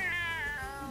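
A cat in The Sims 4: Cats & Dogs lets out a single drawn-out, wavering meow, close and clear with no other sound around it.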